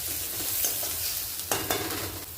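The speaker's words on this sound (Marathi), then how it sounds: "कांदा परत आपल्याला ग्रेव्हीसाठी भाजून घ्यायचं आहे थोडंसं लालबुंद होऊ द्यायचं" Onions frying for Kolhapuri vegetable gravy, a steady close sizzle with a couple of brief stirring scrapes near the end, no talking.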